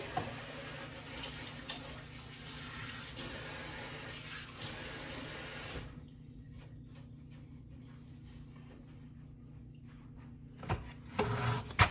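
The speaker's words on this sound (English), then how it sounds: "Rinse my hands off quickly." Tap water runs steadily while hands are rinsed at a sink during a pulled pork cook, a broad close wash of water for about six seconds that then cuts off, leaving quiet room sound and a few handling knocks.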